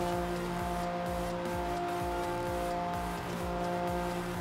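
A Ferrari engine in the racing video game Forza Horizon 3 drones loudly and continuously at high revs, a dense, steady mechanical roar with a faint rhythmic pulsing underneath.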